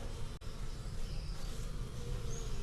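Bees buzz at a hive entrance in Baybay City, Philippines, a faint, steady outdoor drone with a brief tap near the start.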